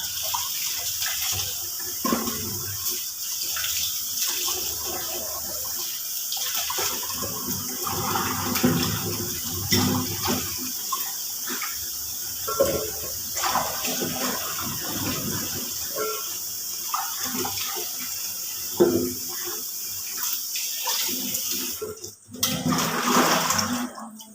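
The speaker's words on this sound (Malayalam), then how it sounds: "അതുകൊണ്ട് നന്നായി പച്ചക്കറികളെല്ലാം കഴുകി എടുക്കാം" Vegetables for avial are washed under a running kitchen tap, a continuous loud rush of water with splashing and handling noises close by, briefly louder near the end, no talk.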